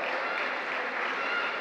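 Crowd applause for young football players at a team presentation, a steady, dense burst of clapping that holds at an even level throughout.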